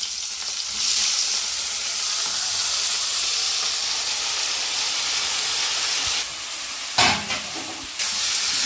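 Tomatoes and prawns sizzling in a pan for a tomato prawn curry, a loud steady frying hiss that briefly cuts and flares near the end with stirring.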